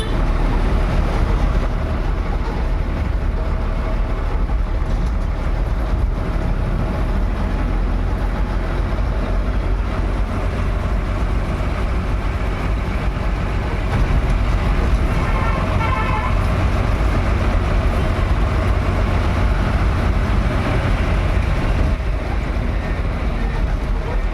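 A bus on the road from Chalakudy to Athirappilly, a continuous engine drone and rattling road noise with a horn toot partway through, a voice speaking over the ride.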